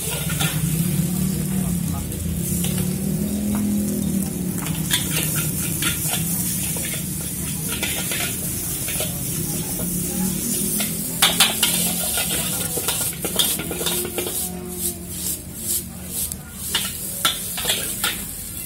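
Nasi goreng frying in a wok over a blazing, roaring fire, with a steady loud sizzle and roar, repeated clanks of a spatula stirring against the metal, and voices talking in the background.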